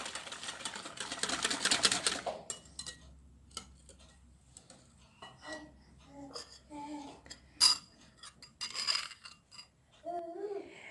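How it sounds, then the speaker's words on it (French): Hand whisking of beignet batter in a bowl, quick irregular bursts of clicking and scraping taps, close and fairly faint, with pauses between strokes. "avec le fouet à la main, je mélange"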